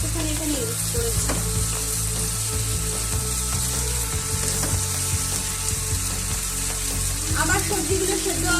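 Mixed vegetables with turmeric for Bengali shukto fry in a pan with a steady loud sizzle, while a utensil scrapes and clatters through repeated stirring and a low background hum runs underneath.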